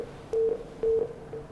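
Telephone line tones during a call on a live morning news broadcast: two steady electronic beeps, about a fifth of a second each and half a second apart, over faint background noise.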